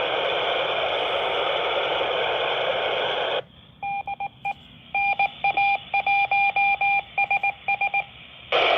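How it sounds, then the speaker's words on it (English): An ISS FM repeater beacon comes in over a radio. Loud hiss suddenly cuts out and gives way to a string of short, evenly pitched beep pulses, then the hiss returns at the end. "There's the beacon."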